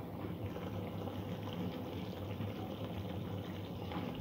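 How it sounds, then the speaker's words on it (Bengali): A pot of hilsa fish curry in yogurt bubbles at a steady boil, a dense continuous simmering burble with a low hum beneath it, close and even throughout, with no voices. "ঝোলটা একটু ঘন হওয়া পর্যন্ত ফুটিয়ে নেব"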